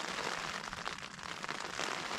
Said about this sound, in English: this morning it is wet. It started raining last night